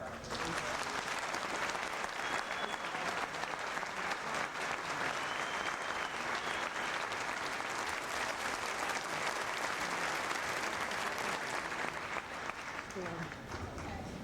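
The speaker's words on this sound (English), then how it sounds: "President Jimmy Carter, I want to recognize and applaud a marvelous former First Lady, Rosalind Carter." Sustained, dense applause from a large audience at the 1988 Democratic National Convention, steady and loud throughout.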